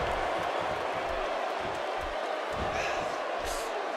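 A video game arena crowd in San Jose roars throughout a WWE wrestling match, a dense steady wash of cheering with thumping impacts from the ring below it.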